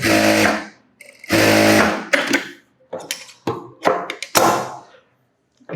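A sewing machine stitches a blouse hook strip in short bursts of rapid whirring, separated by pauses and clunks of handling, close to the microphone and fairly loud.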